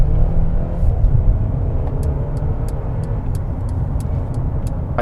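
A 2021 Mercedes-Benz GLA compact SUV in sport mode gives a steady low engine and road rumble from inside the cabin, with faint regular ticking above it and no talk.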